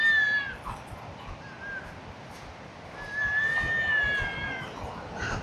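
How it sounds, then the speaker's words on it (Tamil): A young goat bleats where goats graze in a forest among mountains: a short cry at the start, then a longer, wavering call a few seconds later, at moderate distance over quiet outdoor ambience. "ஆட்டுக்குட்டி சவுண்டு."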